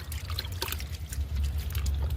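Kitchen-waste soak water is poured and stirred, a brief, soft trickling and sloshing close up with no talking.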